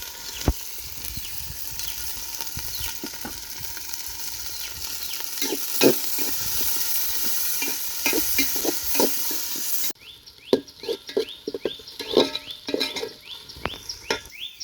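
Small onions and green chillies sizzle and crackle in hot oil in a pot and are stirred with scraping strokes. The frying is loud and close, and the scrapes grow sharper and more separate near the end.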